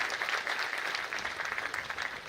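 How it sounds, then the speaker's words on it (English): Steady, dense applause from a large audience at a college inauguration ceremony, honoring a gold medalist; even, continuous clapping with no pauses. "A big round of applause for"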